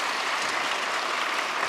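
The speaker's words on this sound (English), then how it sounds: "A big round of applause." Audience applause at an evening session of a large gathering: a dense, even wash of clapping from many hands, sustained throughout without voices.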